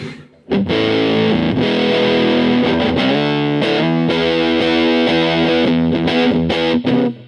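Electric guitar through a ZVEX Mastotron fuzz pedal set to full fuzz with a gated sound, thick sustained chords and notes with sharp attacks, loud and alone with no talking.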